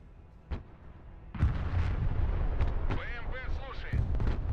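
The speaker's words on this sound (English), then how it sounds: "artillery coming at us" Incoming artillery fire in the video game Broken Arrow: several heavy booms and bursts land one after another over a steady rumble, with a voice talking through the barrage.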